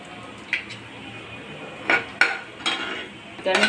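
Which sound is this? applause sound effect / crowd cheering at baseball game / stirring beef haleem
stirring beef haleem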